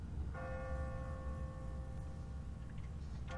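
Church bell in The Walking Dead game, a single sustained clang with a long ringing hum of steady overtones that lingers for about three seconds over a low background rumble.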